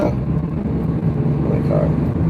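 Street traffic rumbles close by as cars pass in a continuous low engine drone, loud and unbroken.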